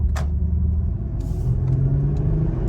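A 2015 Porsche Panamera S with a 420-horsepower V8 is given a little throttle, its engine rumbling deep and steady from inside the cabin, with a faint click and rustle on top.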